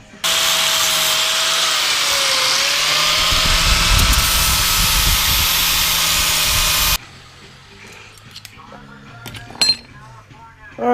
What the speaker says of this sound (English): now I've got to sand these smooth